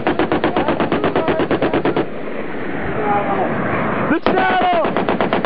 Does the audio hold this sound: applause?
no